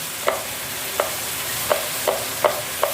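A spoon stirs onions and turmeric in a pan, scraping in about six short, evenly spaced strokes over a soft steady sizzle, with no voices.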